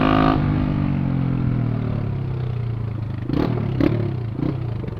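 Yamaha Fazer 250 motorcycle fitted with a drilled muffler, revving hard then dropping to a rough idle with a few sharp throttle blips and rattling pops, close and loud.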